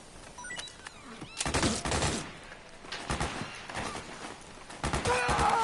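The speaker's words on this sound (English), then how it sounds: "Suppressing fire!" Suppressing gunfire in the video game Metal Gear Solid 4, a dense burst of rapid shots with battlefield noise, loud and close, swelling and easing over several seconds.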